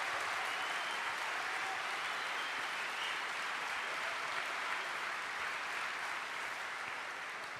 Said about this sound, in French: On peut l'applaudir très fort, on peut l'acclamer